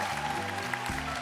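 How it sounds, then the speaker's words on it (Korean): A studio audience applauds on a Korean TV trot music show: a dense, steady wash of clapping over a short stretch, with no speech. "박수 부탁드립니다."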